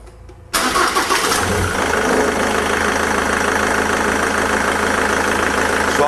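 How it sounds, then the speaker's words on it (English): A car engine cranks briefly, catches and then settles into a steady, loud idle that runs on for several seconds, heard close up during an air mass meter check, with no talk. "start the car."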